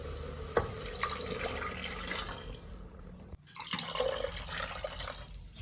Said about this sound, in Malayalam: ഒരു ഗ്ലാസ്സിന് ഒന്നര ഗ്ലാസ് വെള്ളം അങ്ങനത്തെ രീതിയിലാണ് അപ്പോൾ ഞാൻ ആഡ് ചെയ്യാം